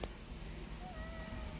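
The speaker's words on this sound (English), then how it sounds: "you guys gotta see this cat" A 3.5-year-old stray cat at an adoption shelter gives a single faint, thin meow over a steady background hum.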